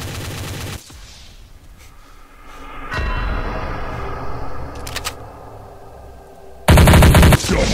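Rapid sniper and automatic gunfire in the game TTT, with loud bursts at the start and end and quieter scattered shots between them, and no talking.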